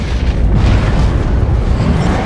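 A grenade detonates in the Warhammer 40k game Dawn of War 2: Retribution, a loud sustained low boom with rumbling debris filling the short stretch.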